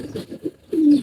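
Loft pigeons give short, soft coos close by, ending in one longer, louder coo, with brief breathy rustles between.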